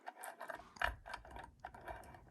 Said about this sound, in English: Now put your screws in.